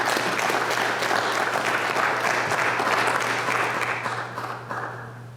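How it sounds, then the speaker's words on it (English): A graduation audience claps steadily in a dense, sustained round of applause that holds even and loud, then thins and fades toward the end. "Give yourselves a round of applause."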